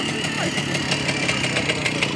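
An older motorcycle engine runs steadily at a moto show, a close, continuous mechanical drone with faint rhythmic ticking, with voices in the background.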